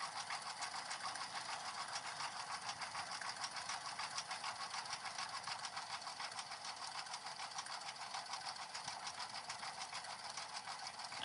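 An embroidery machine stitches a bag tag, a steady, close mechanical whir with a fast, even needle rhythm that runs unbroken and alone, with no talk.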